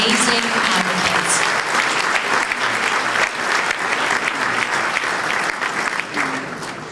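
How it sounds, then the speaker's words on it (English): A crowd at a celebration gives loud, dense applause for advocates, continuous close clapping with faint voices mixed in, tapering slightly at the end. "Please, a round of applause for these amazing advocates."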